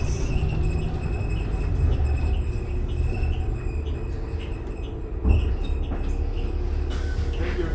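Inside a moving 2014 New Flyer XD40 transit bus, a steady low engine and road rumble runs throughout, with thin creaks, faint rattles and a brief louder knock partway through.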